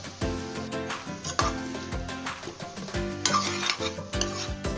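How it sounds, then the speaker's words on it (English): A spoon scrapes and stirs tomatoes, onions and slit green chilies in a pan for south Indian rasam, rhythmic close strokes over a soft sizzle. "I'm then going to add 2 slit green chilies and then mix it."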